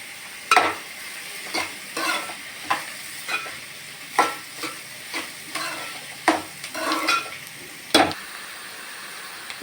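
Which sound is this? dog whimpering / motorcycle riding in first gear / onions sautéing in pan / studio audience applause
onions sautéing in pan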